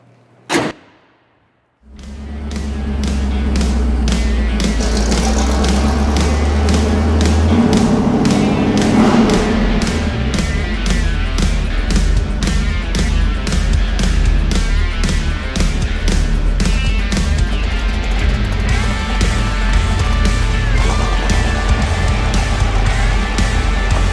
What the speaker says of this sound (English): Let's take it down the road for a spin.